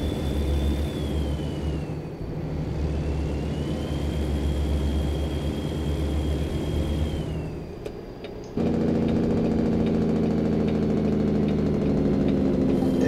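A truck engine idles steadily in American Truck Simulator, a constant low rumble with a whining tone that shifts to a fuller, louder drone partway through, with no talk over it.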